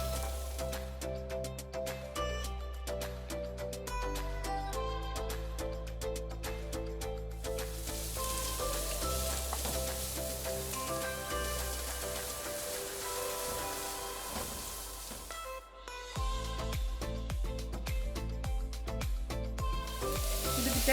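Capsicum, cabbage, carrot and beans fry for homemade veg noodles, giving a steady sizzle that runs under prominent tonal background music.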